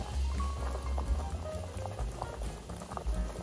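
Quail eggs braise in a pot with Korean green chili peppers, boiling hard with dense bubbling and popping that stays fairly loud and close throughout.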